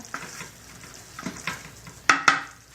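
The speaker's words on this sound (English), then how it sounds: "now I'm going to put the bacon in and stir it up" Bacon is stirred into a frying pan: a few soft scrapes and light sizzles, then two sharp utensil clacks against the pan close together near the end.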